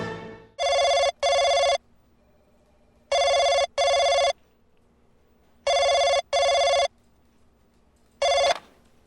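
A telephone rings in a repeating double-burst pattern, three paired rings with pauses between, then a fourth ring cut short; loud and clear with no talking.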